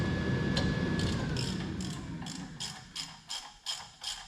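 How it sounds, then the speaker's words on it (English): Ratchet wrench with a 3/8 Allen head socket removing a brake caliper from a Chevy, giving a run of sharp, evenly spaced clicks that grow louder and more distinct toward the end over low workshop rumble. "Take a 3/8 Allen head, socket, that takes your caliper off."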